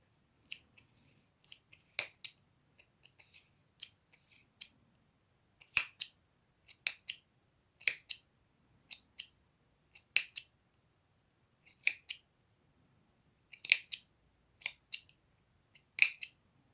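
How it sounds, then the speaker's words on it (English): Scissors snip through paper while a craft flower is cut out, giving about a dozen crisp, close cuts in uneven bursts with quiet pauses between them and no voices. "So I'm just going to cut it up a little bit more."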